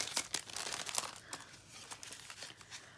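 Gingerbread mint stickers being peeled from their packaging give a run of close, crinkly tearing and crackling bursts, steady through the first second, then sparser soft rustles.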